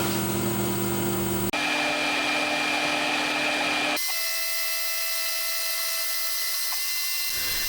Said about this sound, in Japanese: 2回目は仕上げパスなので、ボールエンドミルを使って削っていきます。